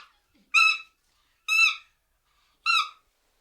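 A chimpanzee gives three short, high-pitched calls, evenly spaced with silence between them, clear and fairly close.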